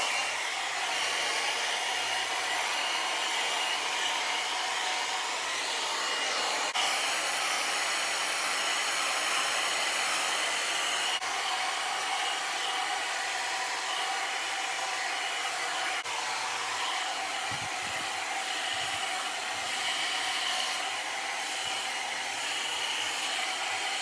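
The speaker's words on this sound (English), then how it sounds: "now I'm going to dry my hair" Hair dryer blowing on freshly washed hair, a steady loud airy whoosh with a constant motor hum that runs unbroken and close throughout.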